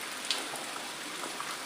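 Rain patters down in a steady, close wash of drops, with a couple of brief sharper splashes over the continuous hiss and no talking.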